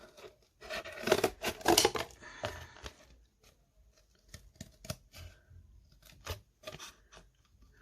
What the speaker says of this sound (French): On prend les ciseaux et on fait le contour